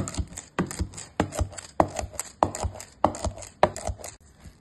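Buffalo milk cream is churned into butter by hand with a wooden churn, giving eight regular, fairly loud knocking and sloshing strokes about every 0.6 seconds, close by, with no talking.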